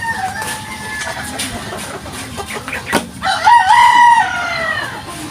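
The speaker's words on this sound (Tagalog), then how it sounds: "So punta tayo sa last na manok ko." A rooster crows loudly and close by, drawn out and rising, while chickens cluck in short bursts among other farmyard noise.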